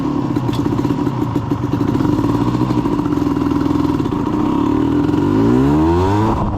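A 1988 Suzuki LT250R ATV engine runs in gear with a steady, raspy two-stroke drone, close and loud, with light mechanical clatter, its pitch gliding upward near the end as the revs climb.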